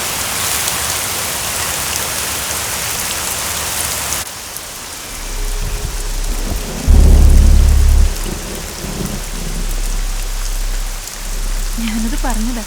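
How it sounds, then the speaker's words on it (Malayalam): Heavy rain pours down steadily during a nighttime thunderstorm, with a loud, deep roll of thunder rumbling in about midway through and the downpour continuing around it. "നന്നായിട്ട് ഇടിയും വെട്ടുന്നുണ്ട്"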